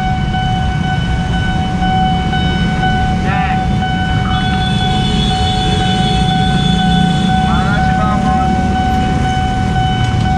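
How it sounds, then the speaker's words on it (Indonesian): An airport train passes a railway level crossing on an afternoon, making a loud, continuous rumble over several seconds with sustained horn or warning tones layered on top. "Wah, ada kereta lagi teman-teman."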